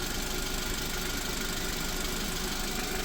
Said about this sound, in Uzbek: Motorlari ham yaxshi ekan, soatda ishlab turibdi.